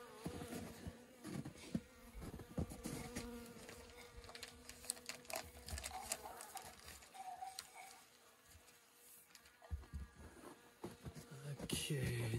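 Honeybees buzzing around an open hive during late-winter feeding, a soft continuous hum with individual bees passing close, under quiet talk and handling noises.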